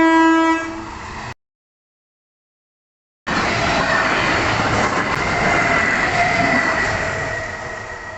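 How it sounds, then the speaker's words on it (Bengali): A train pulls into a small station beside a side line, its broad rumble and rail noise loud and steady and fading a little at the end, after a short horn-like tone and a gap of silence. "ইতিমধ্যে ট্রেনও চলে এসেছে দেখো।"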